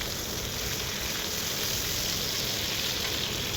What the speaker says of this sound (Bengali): এরপর যে মাছ দিয়ে রান্না করবো সেই মাছগুলো ভেজে নিচ্ছি ভালো করে